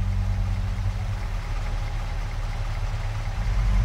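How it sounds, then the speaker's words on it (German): The Lizard GD4 30HS vehicle mod in the video game Farming Simulator 22 runs on a small engine that sounds like a huge pickup, a loud, steady, deep idling rumble close up with no one talking. "es hat ziemlich kleinen Motor, also es ist nicht ein sehr großer Motor, aber hört sich an, als wäre es ein riesengroßer Pickup"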